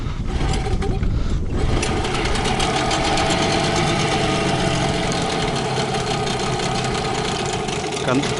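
A new Mikatsu 9.8 outboard boat motor running just after starting, a loud, steady idling drone with a fast mechanical rattle, continuous and close, with brief muffled handling noise at the start.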